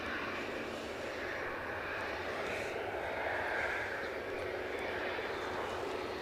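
JetBlue airliner at Edinburgh Airport during a storm, a broad, steady engine roar with rushing wind noise, fairly distant and constant, with a voice talking over it.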